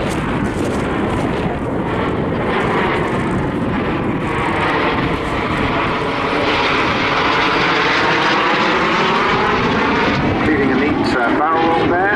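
A pair of BAC Strikemaster jets performing at an airshow, their loud, continuous engine roar sweeping past with shifting pitch as they manoeuvre, while a commentator talks over the noise.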